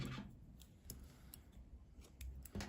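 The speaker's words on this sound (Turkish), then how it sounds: "İpliği kesiyorum." Scissors snipping crochet yarn after finishing a baby vest, faint close clicks and a few quiet snips scattered through a hushed room, with no talk.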